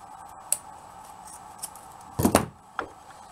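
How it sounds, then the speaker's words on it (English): Scissors snip curly ribbon nearby: a light click, then a louder double cut and one more small snip, over quiet background. "now what I do is I then cut that."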